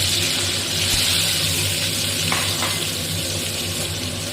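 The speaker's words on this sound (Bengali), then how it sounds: "একটু নুন হলুদ দিয়ে ডিমটাকে ভেজে নেব" Eggs sizzle and crackle in hot mustard oil with salt and turmeric in a pan, a steady close frying hiss with a couple of brief scraping stirs.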